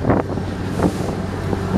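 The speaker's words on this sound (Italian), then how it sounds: "Ragazzi, c'è un vento anche. Corrente di vento." Wind gusting and buffeting a microphone on the shore of Lake Garda, a steady loud rumble with bursts of gusts and possible lapping water beneath.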